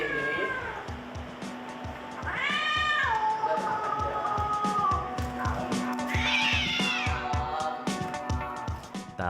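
A feral cat being held down for sterilization meows loudly and repeatedly in long, rising, strained cries close by, with a steady rhythmic background noise underneath.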